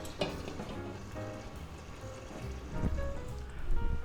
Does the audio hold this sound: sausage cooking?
yes